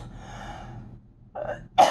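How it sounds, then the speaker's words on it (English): A sudden explosive burst, a cough and sneeze blended together, follows a moment of quiet breathing; close and loud. "You ever cough and sneeze at the same time?"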